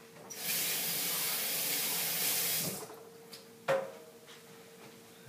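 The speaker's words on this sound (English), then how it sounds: "I'll wash my hands real quick." Water runs steadily from a kitchen tap for a few seconds as hands are washed, then cuts off, followed by faint clinks and small handling noises nearby.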